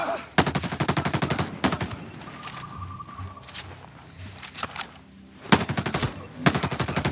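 Rapid bursts of automatic gunfire from hip-fired weapons in Ghost Recon Breakpoint crackle in several close, loud volleys separated by short pauses, with a few lighter clinks between them.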